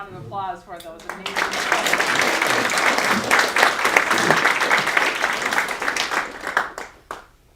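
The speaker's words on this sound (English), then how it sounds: "want another round of applause for those amazing" A Gratitude Day audience gives another round of applause, dense clapping that swells in after a brief voice, holds strongly for several seconds, then fades out.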